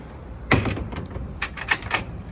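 The door of a Wattman Mini Express train car opens with a single close thunk, followed by a few lighter clicks and knocks.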